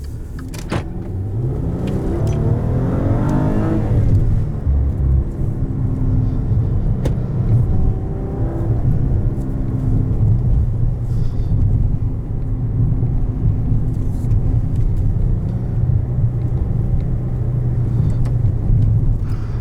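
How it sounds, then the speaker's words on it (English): Steady, loud engine drone from a 2019 Maserati Quattroporte S with its 420 hp 3-liter twin-turbo V6, rising in pitch as it revs early on, then holding a constant cabin rumble throughout without talk. "a properly good sounding V6"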